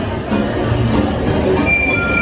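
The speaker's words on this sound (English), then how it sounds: "There goes the train." Mickey & Minnie's Runaway Railway ride train at Walt Disney World rolling past, a loud, steady rumbling and clattering with a faint wheel squeal, continuous throughout and without talk.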